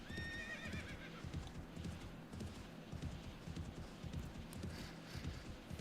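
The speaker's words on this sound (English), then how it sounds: "That's a very fast horse" Horse hooves galloping at full speed in the Wild West-modded 7 Days To Die video game, a steady fast clip-clop with a whinny near the start, loud and continuous with no talk.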